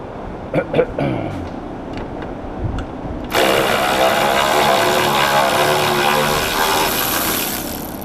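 Steering rack bolts come out of a 1998 Subaru Forester. Someone talks briefly at first, then a powered tool whirs loudly and steadily for about five seconds, close up.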